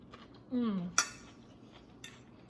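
Forks and cutlery clink against a plate while someone eats a Greek salad of tomato, cucumber and onion: a few quiet, brief taps and one sharper clink, with a short hummed vocal sound just before.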